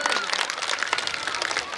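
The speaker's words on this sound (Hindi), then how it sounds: "एक बार जोरदार तालियों से स्वागत।" A dense wash of audience clapping welcomes the chief guest at a ceremony honouring revolutionaries. It holds steady and fairly close, mixed with crowd noise and talk.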